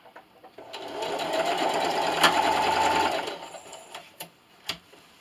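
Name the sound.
sewing machine stitching a pillowcase seam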